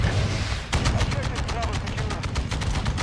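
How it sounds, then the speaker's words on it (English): Rockets and gunfire in the video game Modern Warfare 2, a loud dense barrage of rapid shots and blasts throughout, with a voice briefly heard over the battle. "Oh, there's rockets."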